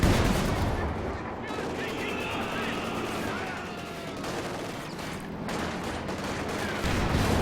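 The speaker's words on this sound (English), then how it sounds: "This gun gets off a shot on the P4. 2 shots in fact." Tank cannon fire in a World War II strategy video game, with a couple of shots aimed at a Panzer IV tank amid dense, continuous battle noise and explosions.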